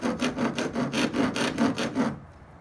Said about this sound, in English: Take some type of abrasive material to get that off.